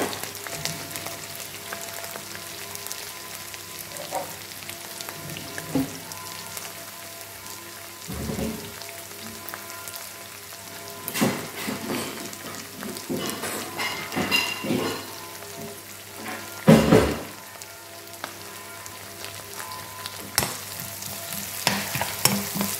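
Green chilies and curry leaves sauté in hot oil in a pan, a steady crackling sizzle like rain throughout, broken by several louder scraping stirs and spatula knocks, close and with no talking.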